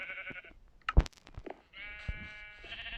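Video-game sheep bleating, several short bleats with brief clicks and thumps between them, clear and close with no talking.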